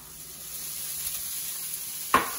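Corn tipped into a hot pan of cooked peppers, onions and garlic, giving a soft steady sizzle and a sharp brief hiss as it lands near the end, with no talking.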